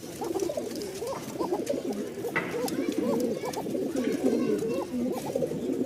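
Many pigeons, local and foreign breeds kept at a market in Mirpur-1, Dhaka, coo continuously in a dense, overlapping chorus of throaty rolling calls close by, with faint bird chatter around them.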